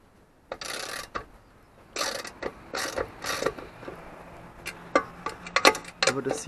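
Screws being tightened on the roof vent of an articulated bus, with a run of close mechanical clicks, ratchet-like creaks and scraping bursts, irregular and fairly loud.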